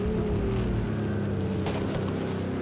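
An Aston Martin race car engine roars in Project CARS 2 during an LMP2/GTE multiclass race at Imola, a loud, steady drone whose pitch slowly climbs as it accelerates.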